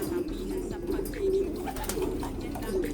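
Pigeons, including pencil white flight pied birds, coo continuously in a loft, with overlapping low, throaty calls close by.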